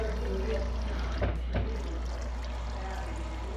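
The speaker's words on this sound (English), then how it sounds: "we gonna go ahead and bleed out the line, which is get some water in a big cup or in a container to let all the air out of the line" Water bled from the ice maker supply line of a Whirlpool refrigerator pours and trickles into a cup, a faint steady stream with a couple of small splashes.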